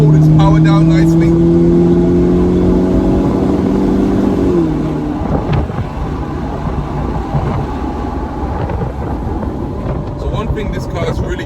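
BMW 1 Series E88 engine rising in pitch as the car accelerates hard, then a shift and a rougher continuing drive with road and wind noise, loud and close from inside the cabin.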